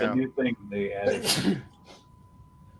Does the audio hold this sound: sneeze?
yes